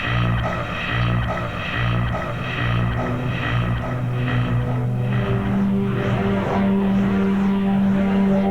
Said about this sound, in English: Everybody holding them on the clutch and away they go, and this big field sweeping down into the first corner.